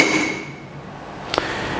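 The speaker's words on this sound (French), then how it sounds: "on va maintenant effectuer la collision entre la tête du marteau et le bloc de plomb." A steel hammer head strikes a lead block once, giving a brief dull thud near the end of a steady room hiss, with a faint tonal ring fading early on.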